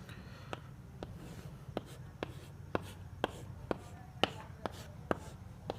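Marker taps and strokes on a board while a reaction mechanism is written out, a steady run of sharp, evenly spaced clicks about every half second over low background hum.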